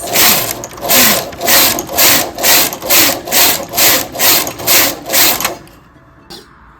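A domestic knitting machine carriage is pushed across the needles while knitting ruffles, giving about ten rhythmic, even swishing-rattling passes close by, loud and regular, before stopping with a faint clack at the end.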